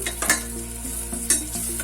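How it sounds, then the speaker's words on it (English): Thinly sliced onions frying in ghee for a vegetable biryani: a steady sizzle with occasional stirring scrapes and light clinks of a utensil against the pan. "thinly sliced onions. You can do this before adding the ghee also. It should fry"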